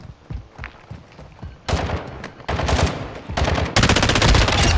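Call of Duty gunfire against bots: a few scattered shots and footsteps, then loud sustained bursts of automatic fire that grow denser and heavier toward the end, close and dominant without speech.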